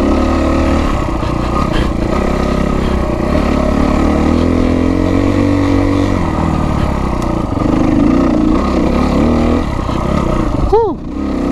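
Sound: Kawasaki KX250F dirt bike riding on mountain trails

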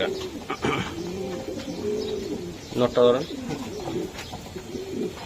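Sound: pigeon cooing while being handled

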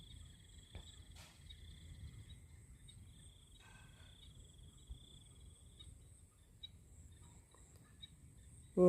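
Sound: frogs calling in rice fields

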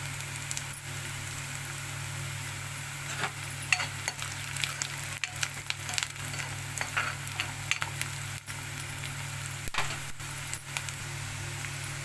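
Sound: onions and curry leaves frying in pan for fish curry

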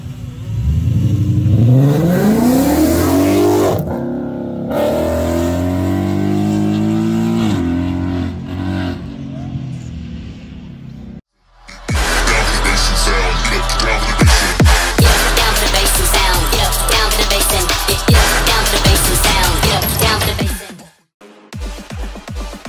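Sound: Ford Mustang V8 engine revving to maximum

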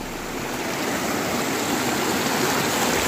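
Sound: meltwater stream flowing from melting snow, North Sikkim

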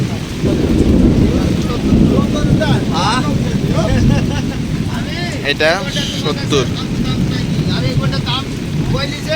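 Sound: rain falling at outdoor cattle market

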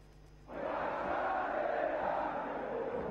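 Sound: football stadium crowd of Al Ahly fans cheering

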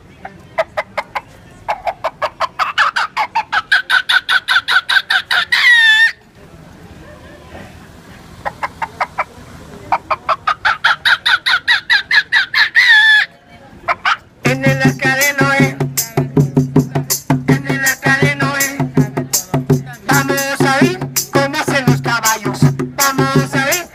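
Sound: voice imitating a chicken

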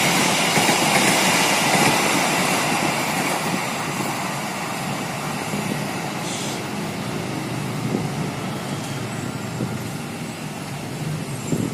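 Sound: Gaya Baru Malam Selatan train passing, locomotive 201

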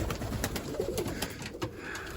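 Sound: bango pigeons in a coop

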